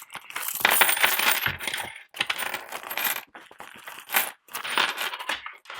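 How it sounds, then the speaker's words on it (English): Coins being taken out of a cash envelope and handled, bursts of clinking metallic jingles and rattles up close, separated by short quiet gaps. "So let's just take my coins out."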